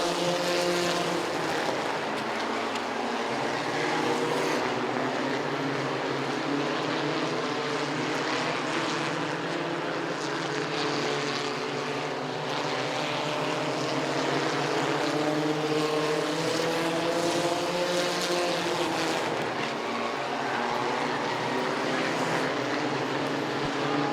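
Several UCAR stock cars roar together around the Southside Speedway oval during a 25-lap main event, a dense, steady engine drone with harmonic bands that swells slightly as the pack passes, loud and continuous.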